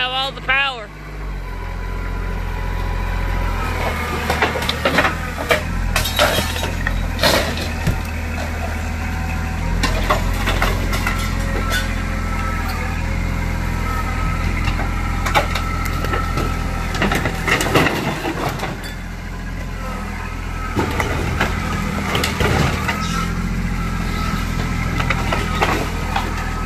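A machine engine revved up to high idle while it crushes a wooden travel trailer during scrapping, giving a loud steady drone with repeated cracking, splintering and crunching bursts of wood, and voices shouting over it.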